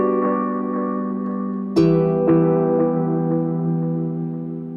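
Sustained guitar notes through a bucket brigade delay pedal ringing with lingering repeats, a new chord struck midway and fading echoes trailing behind it, loud and close.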